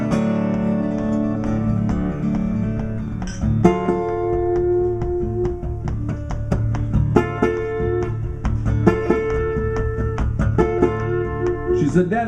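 Guitar played to imitate a distant train, a low rumbling chugging figure with ringing chords and slides layered above, sustained and fairly loud throughout with no talk.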